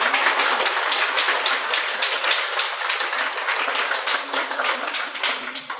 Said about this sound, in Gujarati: સૌ માટે ખૂબ લાંબી તાળીઓ પાડો.